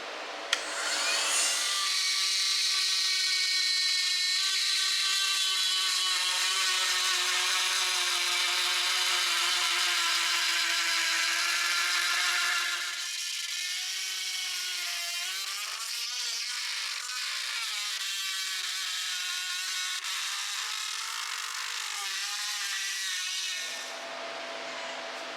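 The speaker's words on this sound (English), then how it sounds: "My weapon of choice to cut this out is going to be a Dremel tool with a side cutting router bit on it" Dremel rotary tool with a side-cutting router bit cutting into a plastic dashboard on a John Deere 214 mower, a high steady whine held for over twenty seconds with a brief dip midway as the tool loads, close and alone.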